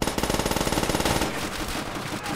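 A PPSh submachine gun in Call of Duty: World at War fires a fast, evenly pulsing automatic burst, loud and close, lasting about a second before trailing off into echoing noise.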